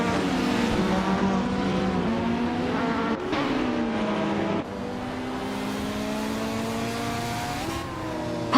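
A 2017 Cadillac DPi race car at the start of a race at Magny-Cours roars loudly and close, its engine climbing through revs with a couple of sharp gear changes, with no talking over it.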